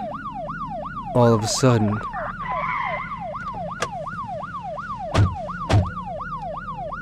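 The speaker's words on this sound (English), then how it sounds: "I could hear the ambulance and police sirens as they approached my house" Ambulance and police sirens approach a house, a wailing siren cycling steadily throughout, loud and near, with a few sharp thumps and a brief voice speaking partway through.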